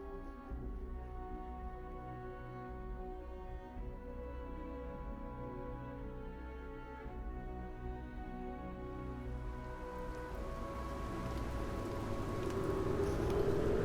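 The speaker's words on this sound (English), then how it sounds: "It's finally raining." Steady rain falls in the video game Starfield, a continuous hiss that grows a little louder and brighter toward the end, with a low ambient hum underneath and no talking.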